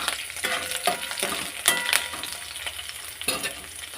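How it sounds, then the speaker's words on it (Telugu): Green chillies frying in a pan for masala Maggi noodles: bright crackling sizzle, close and steady, punctuated by a few quick stirring scrapes. "ఇలా ఫ్రై కావాలి."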